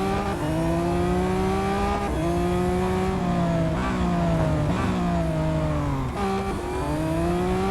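A Lamborghini Aventador SVJ V12 racing in Real Racing 3, loud and continuous, with engine pitch climbing through the gears and dropping sharply at each upshift, repeated several times.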